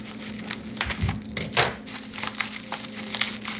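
Crinkling and tearing of plastic wrapping being cut from a projector, close and fairly loud with steady rustling and a few sharper crackles throughout.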